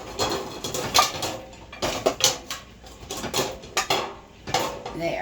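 Dishes and a spatula loaded into a sink or dishwasher while cleaning at home, with clattering ceramic clinks and metallic knocks in irregular bursts, close and fairly loud.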